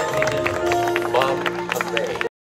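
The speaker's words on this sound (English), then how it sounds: "applause, please" Wedding guests clap in a steady scattered patter beneath speech and a sustained tone, moderately close, before cutting off abruptly near the end.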